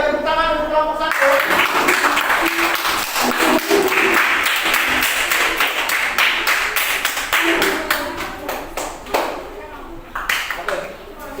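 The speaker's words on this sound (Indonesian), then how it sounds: "Ayo tepuk tangan untuk kelompok 1." Students in an Indonesian classroom clap for a student group about to present, a dense burst of close, sharp handclaps that keeps going and thins toward the end, with talk mixed in.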